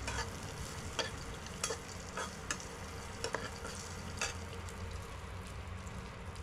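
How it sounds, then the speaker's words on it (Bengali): Cashew nuts fry gently in a little ghee, a faint low sizzle broken by several sharp clicks and taps of a spoon stirring in the pan, with no speech. "তরকারি বসাবার আগে কাজু বাদামগুলো একটু ভেজে নিলাম ঘিতে অল্প"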